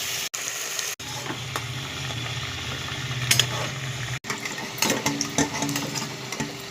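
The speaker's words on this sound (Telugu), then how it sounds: "ఒక్కొక్కటి తీసి ఇలా వేసుకోవాలి ఫ్రెండ్స్." Sweet corn samosas sizzle and fry in hot oil with a steady close crackle, occasional brief dropouts and louder bubbling bursts as more pieces go in.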